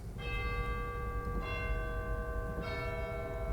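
Three tuned chime strikes from a Wurlitzer theatre organ ring out one after another, each clear metallic tone sustaining and overlapping into a bright, lingering shimmer.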